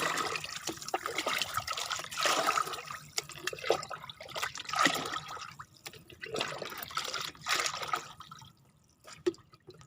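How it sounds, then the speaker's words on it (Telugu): Water is poured into a plant solution for a hibiscus, coming in several bursts of trickling and splashing liquid with brief quiet gaps between pours, fairly close and otherwise without talk. "ఇంకొంచెం నీళ్ళు కలుపుతున్నా"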